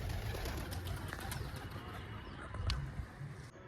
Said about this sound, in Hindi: वो देखिए वहाँ से कबूतर आ रहे हैं ना घूमते हुए